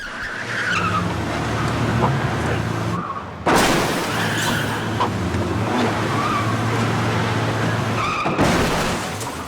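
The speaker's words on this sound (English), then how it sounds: "Cracking bit of stunt work ensues with Eddie hanging out of the side of Fisher's car." Car engine roaring and tyres skidding in a TV police-drama stunt on London streets, with a man hanging out of the side of the moving car; loud continuous engine noise with abrupt bursts and screeches, alongside voices.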